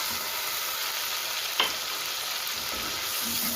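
Garlic-ginger paste hits a pan of golden fried onions for a cluster bean curry, giving a steady, even sizzling hiss with one brief clatter partway through and no voices.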